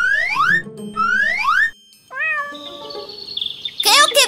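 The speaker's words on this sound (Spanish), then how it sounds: "¡Creo que veo un gato!" A cartoon cat gives two rising meows, followed by shorter meow-like calls and a bright alarm-like tone near the end, all close and clear.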